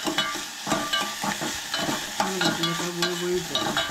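Okra frying and being stirred in a pan for a Konkani lunch thali, a steady busy sizzle broken by repeated scraping stirs, close and fairly loud, with no talking.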